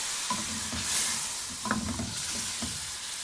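Yogurt is stirred into sizzling beef karahi, a steady broad frying hiss with soft spoon scrapes and bubbling pops repeating near and clear.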